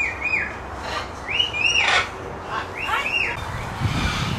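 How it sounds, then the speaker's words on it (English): Exotic parrots in a bird sanctuary call out in a series of rising, whistled chirps spaced a second or so apart, fairly close and clear over low background noise. "These are those birds are making noises."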